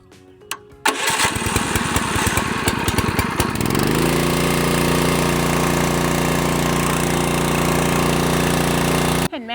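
A Tazawa 2-inch, 7 hp gasoline fire pump engine is started with a key. A brief starter crank catches into a rough sputter, then settles into a loud, steady idle close by, with no talking.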